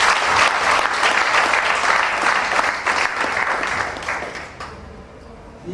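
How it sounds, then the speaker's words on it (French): A wedding ceremony crowd bursts into sustained applause, dense and loud clapping that holds for several seconds before tapering off and fading out. "Applaudissez."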